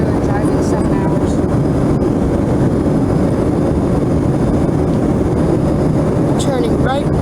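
Steady, loud broadband roar inside the cabin of an American Eagle Envoy Air Embraer E145 regional jet descending toward Chicago O'Hare, with a constant engine and airflow rumble throughout.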